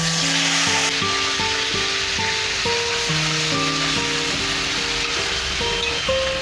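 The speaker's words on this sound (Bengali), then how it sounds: "কড়াইয়ে তেল দিয়ে দেবো গরম হয়ে গেছে এবারে আমি চিংড়ি মাছগুলো লবণ হলুদ মাখানো চিংড়ি মাছগুলো দিয়ে দেবো" Prawns coated in turmeric and salt fry in hot oil in a wok, giving a loud continuous sizzle. Faint tonal notes sound in the background.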